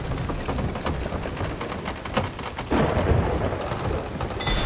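Thunderstorm with heavy rain in the pirate game Sea of Thieves, a dense steady roar of rainfall with rumbling thunder that swells into a louder crack partway through, no talking.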